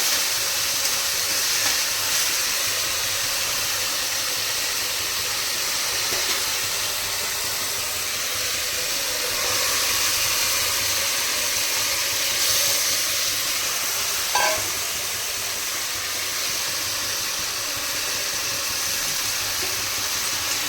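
Mutton pieces and a whole tomato fry in a pan for a Bengali mutton and potato curry, giving a loud, steady hiss of sizzling throughout with one brief clatter near the end and no talk.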